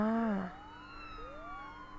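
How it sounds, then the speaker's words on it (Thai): A police-style siren sounds from a security alarm system, its wail sweeping up and down in a steady rising and falling pattern. It is fairly faint and distant, with a louder tone cutting off near the start. "โอเคครับหวอมา แปลว่าระบบ security นี้ถ้าขึ้นเนี่ยมันจะแจ้งที่สถานีเลยนะ"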